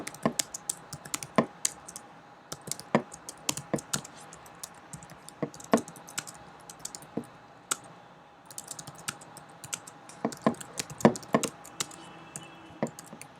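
Rapid, irregular clicks of a computer keyboard as code is typed for a dynamic programming solution, close and fairly quiet, a steady run of sharp keystrokes with brief pauses and no talking.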